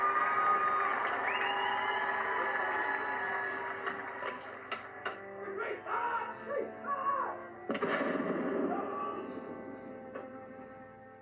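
A crowd of royal supporters screams and cheers for the King's arrival at the royal residence in Northern Ireland, a sustained roar with shrill shouts and whistles rising and falling, heard from a moderate distance.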